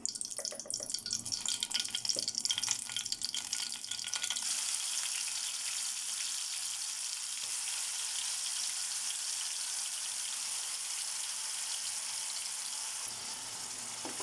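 Onion paste fries in hot oil with curry leaves, giving a steady, dense sizzle up close. The opening seconds are rougher and louder before the hiss settles into an even, continuous crackle.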